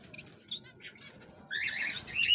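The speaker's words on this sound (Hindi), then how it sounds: "और ये देखिए बंगाली चिड़िया" Bengalese finches kept indoors in a cage give a run of short, high chirps, sparse at first and then denser and louder toward the end, close by with no talk over them.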